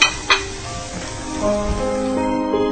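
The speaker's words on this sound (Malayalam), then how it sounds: "നല്ലോണം ഇളക്കി നമുക്കിത് വീണ്ടും ഒരു 2 മിനിറ്റ് കൊണ്ട് അടച്ച്" An olive and lemon dish sizzles steadily in a pan while it is stirred, with soft scraping and small clinks near the start, continuing at an even moderate level throughout.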